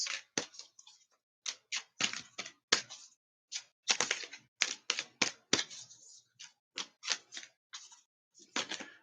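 A deck of cards is shuffled by hand, giving a quick irregular run of crisp slaps and flicks, close and fairly quiet, with no talking.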